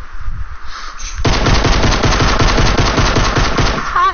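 Rapid automatic gunfire rattles loud and close in a shooter game after a quieter opening, a dense string of shots pounding for about three seconds.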